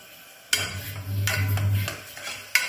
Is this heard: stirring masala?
yes